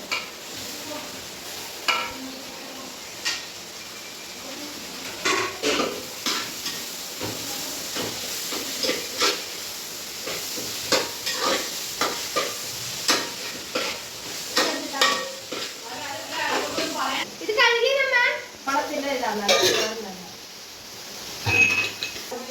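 Tomatoes go into a hot pan and are stirred while frying, giving a steady close sizzle and hiss with repeated scraping and clinking stir strokes, under faint background talk.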